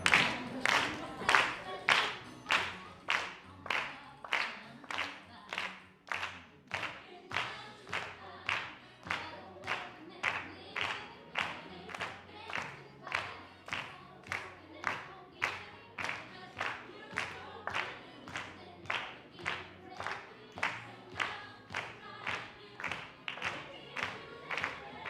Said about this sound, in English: Some clapping, go on, that's good.